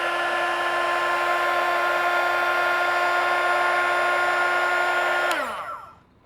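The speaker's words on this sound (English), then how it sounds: "and then just hit it with your heat gun." A heat gun blows steadily while shrinking heat-shrink tubing over a LiPo battery connector, a constant whirring hum with a bright tonal whine that holds for over five seconds and then winds down to silence as it shuts off.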